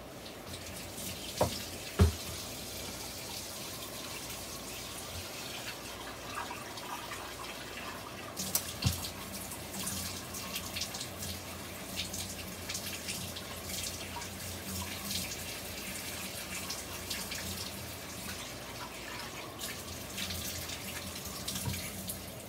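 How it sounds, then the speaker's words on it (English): Cold tap water runs steadily into a bowl of rice during the first wash, a continuous close splashing flow with a few small knocks and clinks and no talking. "when you wash your rice, wash it with cold water. And this is the first water that I'm washing."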